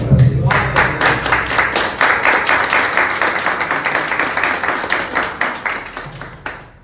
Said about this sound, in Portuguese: Aplauda ao Senhor por essa palavra.